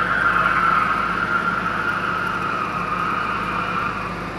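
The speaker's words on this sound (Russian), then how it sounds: "Это Шумахер пролетел" A car speeding past on a street in a new residential district of Mersin, heard as a loud, steady engine roar with a tonal whine that stays up for several seconds and then eases slightly.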